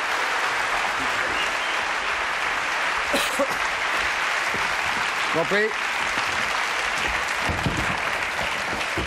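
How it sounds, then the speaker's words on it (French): Steady, dense applause from an audience, sustained evenly throughout with a few faint voices and whistles rising briefly above it. "Applaudissements pour lui"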